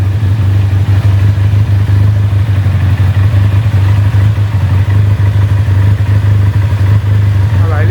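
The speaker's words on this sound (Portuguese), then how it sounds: "Observe que até a marcha lenta da moto começa a mudar." A motorcycle engine idles steadily while its carburetor is adjusted, a loud, constant low rumble with slight flutter and clatter throughout, and voices faintly underneath.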